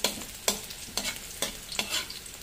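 Bitter gourd (ampalaya) is sautéed in a pan, a sizzling bed broken by about five regular scraping strokes of a spatula, close and clear, with no speech.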